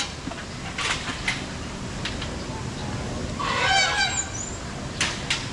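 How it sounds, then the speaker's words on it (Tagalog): Ducks at Manila Zoo give short raspy quacks in scattered bursts over a noisy outdoor background, with a louder cluster of calls near the middle and people talking nearby. "Yan na may ingay na ganun sa itik."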